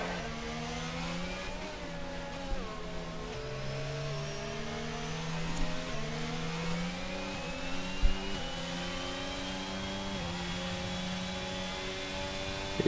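Racing cars, a McLaren among them, in a racing video game at Silverstone, with engine tones rising and shifting through gears in a continuous whine, heard alone at steady moderate loudness.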